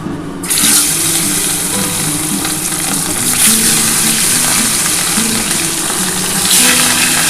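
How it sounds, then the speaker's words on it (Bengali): Pieces of large rohu fish fry in hot oil in a kadai, a loud continuous sizzling with a few brighter bursts as the pieces settle, no voices. "আমার তেল কিন্তু গরম হয়ে গেছে এবার মাছগুলো আমি একটা একটা করে ভেজে নিই"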